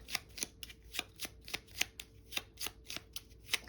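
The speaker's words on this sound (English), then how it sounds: "We're going to shuffle that back in." Gloomhaven board game cards being shuffled by hand, a quick run of crisp riffling flutters repeating in a steady rhythm, close and clear with no talking.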